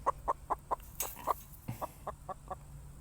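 Several chickens cluck in short, rhythmic bursts, close and fairly loud, including a big rooster; a brief scuffle breaks in midway, and no one speaks.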